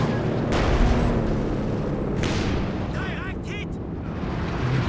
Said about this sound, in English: There goes the Soviet mortar